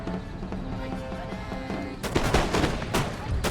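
Musket volleys crackle in the strategy game Empire: Total War during a British campaign battle, a dense burst of loud overlapping gunshots breaking in over a continuous battle soundscape and game music.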